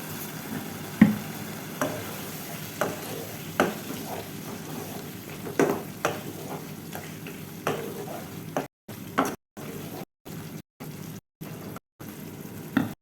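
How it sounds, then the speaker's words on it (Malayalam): Chicken pieces coated in achari masala are stirred in a pan with a spatula, a steady soft sizzle broken by repeated scraping and clinking strokes, with brief gaps near the end. "ഒരു 1-2 മിനിറ്റ് ഇങ്ങനെ തന്നെ നന്നായിട്ട് ഇളക്കി ചിക്കനിലൊക്കെ എല്ലാ സ്ഥലത്തും എത്തുന്ന വിധത്തിൽ ഇളക്കി യോജിപ്പിച്ചെടുക്കുക"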